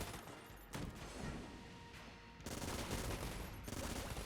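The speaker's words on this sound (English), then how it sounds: "These flak bullets are really getting nutty" Flak bullets fired by enemies in the roguelike shooter Enter the Gungeon, dense rattling volleys of gunfire that come in loud waves and swell sharply partway through, with no voices.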